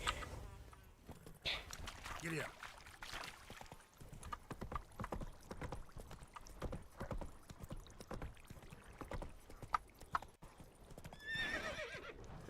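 Horse summoned in The Witcher 3 video game, with a rapid clatter of hooves approaching and a neigh near the end, loud and busy throughout, with game sounds mixed in.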